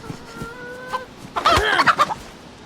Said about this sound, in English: You hear a chicken, you'd get it.